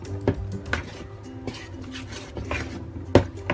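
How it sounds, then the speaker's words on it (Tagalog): Tutti frutti is stirred into a no-bake cake batter in a bowl, with irregular clinks and scrapes of a utensil against the dish and soft mixing sounds between them, close by and without speech. "Mix na po natin ang ating tutti frutti."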